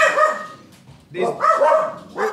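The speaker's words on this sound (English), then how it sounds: "You're upsetting the dogs." Several dogs bark in loud, close, overlapping bursts while people talk and laugh in a lively comedy roast setting.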